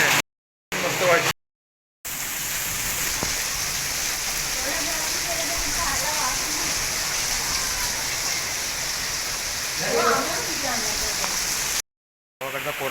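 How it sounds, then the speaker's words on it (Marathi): Heavy rain pours down steadily in a village, a dense unbroken hiss that stays loud and even for the whole stretch, with a few brief cutouts. "काय भरमसाठ पाऊस पडतोय"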